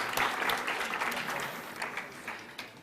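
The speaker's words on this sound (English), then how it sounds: "give them another round of applause" A crowd applauds at a college global fashion and talent show, the clapping loudest at the start and then tapering off, some voices mixed faintly into the sustained ovation.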